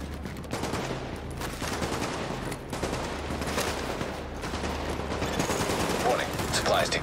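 Dense gunfire bursts from the video game The Division, a continuous loud fusillade of rapid shots that runs the whole stretch with no gaps.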